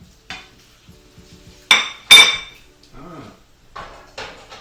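Metal pots and utensils clink and clatter while a cook works two pots on the stove, with a few sharp loud knocks amid scattered lighter clinks and scraping, close by and without talk.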